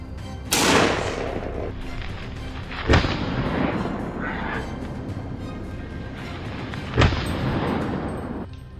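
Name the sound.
gunshots fired at wild boars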